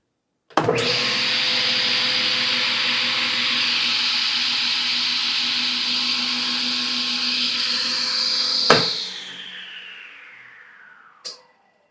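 A SawStop table saw, just upgraded, starts with a sharp click and runs loud and steady with a high whine for about eight seconds, then shuts off and spins down, ending with a faint final click.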